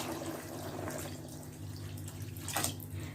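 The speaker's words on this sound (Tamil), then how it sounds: "இப்போ தண்ணி போடுறேன்." Water pours and splashes into a cooking pot while making mutton biryani, a close gurgling stream with a brief louder gush near the end.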